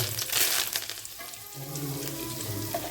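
Curry leaves hit hot oil in a pan for a conch curry, giving a steady crackling sizzle with a brighter spitting burst at the start, moderately close and without speech.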